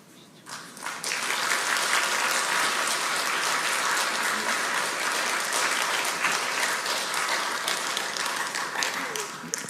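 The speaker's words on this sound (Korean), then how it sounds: "감독님 나오실 때 다 같이 뜨거운 박수로 환영해 주시면 감사하겠습니다" Warm, sustained applause from a church lecture audience welcoming a film director onto the stage, dense clapping filling the room steadily for about nine seconds after a brief quieter start.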